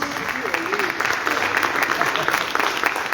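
An audience applauds for Khalil Molero, a lawyer and former radio voice, at a gathering; steady dense clapping with a voice speaking over it.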